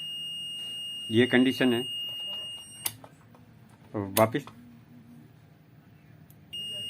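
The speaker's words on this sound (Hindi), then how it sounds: "आप टच करते ही आप बीप कंटिन्यू चालू रहेगी और वापस ये बीप बंद नहीं हो रही है" A faulty digital multimeter gives off a steady, high electronic beep that keeps sounding without stopping. It cuts out briefly and then returns, while someone speaks Hindi over it.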